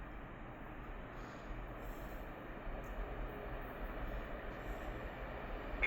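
Freight train passing through the station at Gallese, Italy, hauled by an E 494 Medway locomotive pulling container wagons. A steady, loud low rumble of rolling wagons holds throughout and swells slightly near the end, with no talk.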